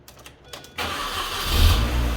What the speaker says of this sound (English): Boom. Car started right up.